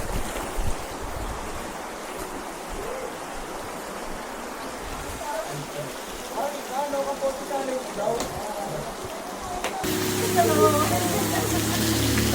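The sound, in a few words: heavy rain falling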